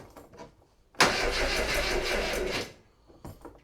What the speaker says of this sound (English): the engine is turning over low